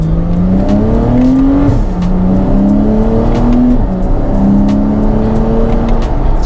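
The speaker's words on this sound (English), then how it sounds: "Sport Plus, Sports Exhaust, and let's go." A Porsche 987 Spyder's engine roars hard through the gears in Sport Plus with sports exhaust, pitch climbing, dropping at each shift, then climbing again, loud and close with no talk.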